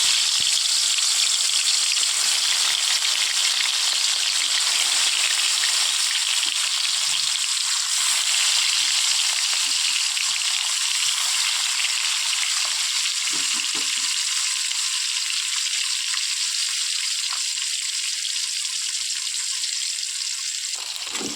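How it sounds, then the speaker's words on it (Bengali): Fish fries in hot oil in a wok, a loud, continuous, close-up sizzle with a bright crackling hiss that holds steady throughout. "তেলটা গরম হলে আর মাছগুলোকে একে একে দিয়ে দেবো"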